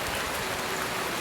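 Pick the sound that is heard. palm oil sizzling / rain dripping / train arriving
rain dripping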